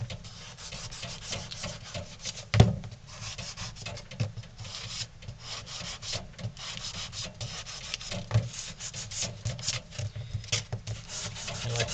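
Sandpaper rubs over a carved wooden ventriloquist dummy, smoothing a painted coat on the hands and feet in a steady, raspy back-and-forth scratching that is close and continuous, with a few sharper knocks and no voices.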